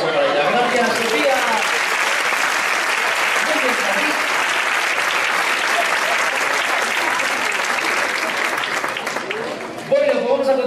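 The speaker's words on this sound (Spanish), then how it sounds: "el mejor aplauso para ella" An audience at the 2013 magic gala in Leganés applauds loudly and continuously, a dense wash of clapping that tapers at the end as a voice comes in.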